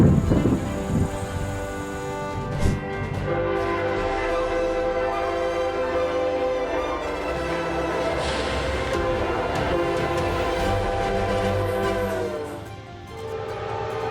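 An oncoming train on railroad tracks roars past with a sustained horn blast, the rumble holding steady and then easing slightly near the end. The impact with the fawn does not stand out from the train noise.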